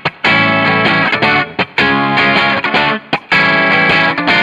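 Electric guitar chords played through distortion with spring reverb, loud and close, in strummed bursts with short gaps between them and no voice.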